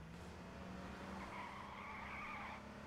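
A police car skids in a video game, giving a sustained tire squeal over a steady engine drone, faint and distant in a short burst.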